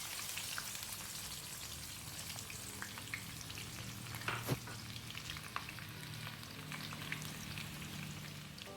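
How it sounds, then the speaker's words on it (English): Onions fry in palm oil for a smoked catfish stew, giving a soft continuous crackle and patter of sizzling oil with occasional light clicks of stirring, quiet and steady. "So when your onions, you want to use a generous amount, has fried beautifully, almost caramelized."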